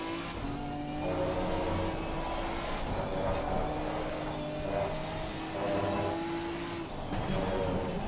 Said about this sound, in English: Rev it to the max just to enjoy the engine noise.